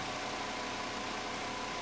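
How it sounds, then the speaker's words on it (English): A VW Rabbit engine idling with its radiator cooling fan running, a steady faint mid-pitched hum with no voices. "Can you turn off the engine,"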